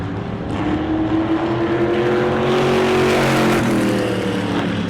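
602 Modified race cars roar past at New Smyrna, engines revving and whining in pitch as several vehicles sweep by loudly in close succession.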